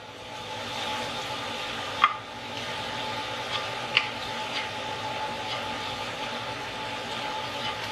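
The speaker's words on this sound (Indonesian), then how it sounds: "Aduk terus ikannya sampai mengering ya." Shredded skipjack tuna cooks with palm sugar in a pan for abon ikan cakalang, giving a steady low sizzle and scraping under constant stirring, with two sharp utensil taps standing out.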